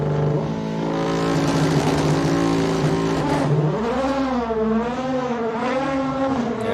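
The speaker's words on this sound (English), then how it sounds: "Listen to this car." A race car at a hill climb roars loudly, holding a high steady pitch, then drops and revs up and down through gear changes as it accelerates away.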